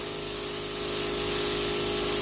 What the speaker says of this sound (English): what I might do, I might just spray this whole area